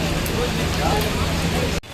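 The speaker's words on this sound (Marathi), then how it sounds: "आज पाऊस चालू आहे खूप." Dense, even hiss of heavy rain falling steadily, briefly cut off near the end.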